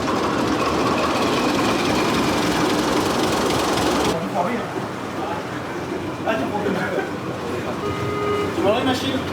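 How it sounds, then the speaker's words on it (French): Steady loud mechanical drone of a ship's port-side V12 engine running in the engine room of a SeaFrance ferry, a dense continuous rumble with clanking, while people talk over it. "on a terminé avec le V12 bâbord, il est démarré, il est dispo"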